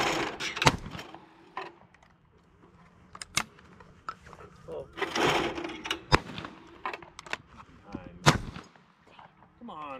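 Shotgun blasts at a clay shooting range, several sharp loud reports spaced irregularly across the stretch, with quieter handling and background noise between shots.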